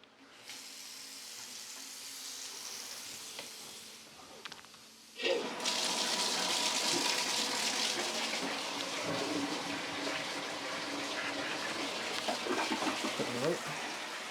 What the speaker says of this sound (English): once we start running the water